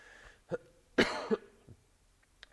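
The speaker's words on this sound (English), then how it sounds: "Fittingly, I have a cough." A single person coughs twice in a short burst, a light hack followed by a harsher, louder cough, then a faint throat sound trailing off in a quiet room.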